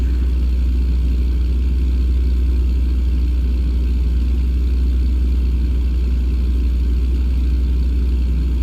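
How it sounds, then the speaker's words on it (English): A truck engine in American Truck Simulator drones steadily from inside the cab, a loud continuous low rumble with no change in pitch, alone without talk. "Let's listen to the sound of the truck."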